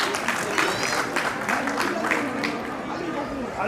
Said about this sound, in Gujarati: આપણે તાળીઓ વગાડીશું સર્વે દાતાઓ માટે